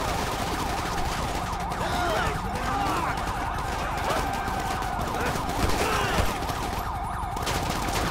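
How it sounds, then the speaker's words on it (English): Multiple gunshots in the LSPDFR police video game, sharp rapid bursts of fire ringing out beneath a loud wailing police siren that cycles continuously throughout, with no speech. "Whoa, multiple shots fired."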